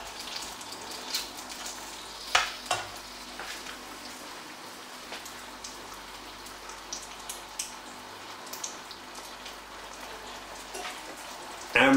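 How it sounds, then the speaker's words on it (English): Salted potatoes frying in a pan give a faint, steady crackle, with occasional louder clinks and scrapes as they are stirred around, no speech. "we're going to stir these potatoes round"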